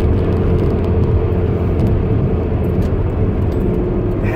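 Steady, loud low rumble of a car moving through busy road traffic, an unbroken interior drone with road noise and passing vehicles, no voices.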